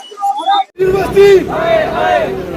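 A crowd of students protesting against Jammu University chants slogans loudly and up close. The voices are raised in unison, break off briefly, then surge back into a sustained shouted chant.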